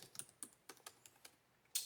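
Keys on an Asus TUF A16 Advantage Edition laptop keyboard are typed on in a quiet room, giving a quick, uneven run of crisp, light clicks up close with no voices.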